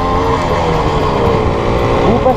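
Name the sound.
motorcycle engine revving in first gear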